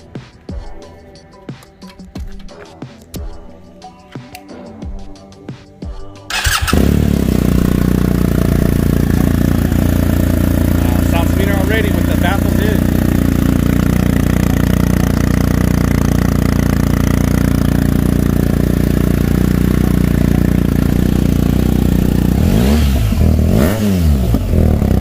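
BMW R1250GSA motorcycle fitted with a Remus 8 slip-on exhaust, baffles installed, starts after a few seconds of quiet and settles into a loud, steady deep idle, with a couple of brief throttle blips near the end.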